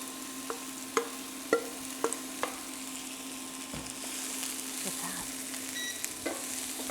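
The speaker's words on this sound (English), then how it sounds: "Sizzle." Onions sizzle steadily in hot oil close up, a bright crackling hiss broken by a few sharp pops and light clicks of stirring.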